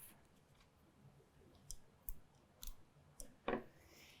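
Scissors snip off a thread tail on a gemstone necklace, making a few sharp, quiet clicks and snips spread over several seconds against a near-silent background.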